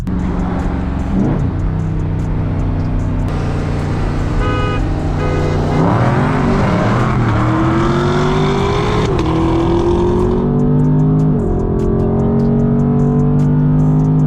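A 2020 Dodge Charger 392 Scat Pack Widebody and a 2020 Camaro LT1 roll race, the engines droning loudly at close range and then climbing in pitch as both accelerate hard, with the roar rising and falling through the run.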